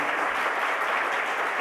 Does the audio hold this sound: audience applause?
yes